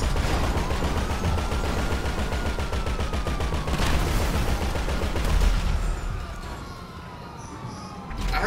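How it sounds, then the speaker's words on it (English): A gunfire shootout in the video game Grand Theft Auto V, dense rapid automatic fire hammering steadily with a wailing police siren sweeping over it and some voice chatter mixed in. "I'm shooting them."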